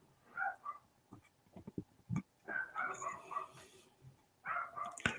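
A dog barks in short harmonic bursts at night near a house where people were asleep, several barks spread across the stretch, fairly close and moderately loud.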